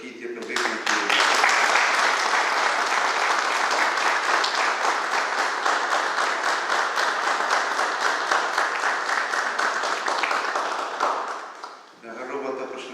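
Sustained audience applause at a commemoration ceremony, dense and loud for about eleven seconds before fading, then a voice begins speaking.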